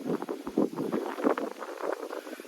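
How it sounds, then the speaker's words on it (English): Strong gusty wind outdoors, buffeting the microphone in uneven, rumbling bursts that rise and fall continuously over a couple of seconds. "I know it's getting real windy."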